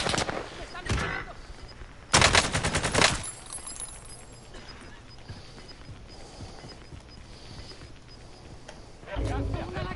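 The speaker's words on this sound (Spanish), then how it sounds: "¡Me están disparando!" Bursts of gunfire in a Warzone battle royale match, with a loud rapid volley near the start, another around two seconds in and more at the end, over steady game ambience and with speech throughout.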